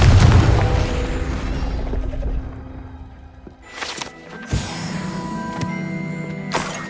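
A Confringo fire spell goes off in Hogwarts Legacy with a heavy booming blast that fades into a long rumble, followed by a few sharper bursts and impacts.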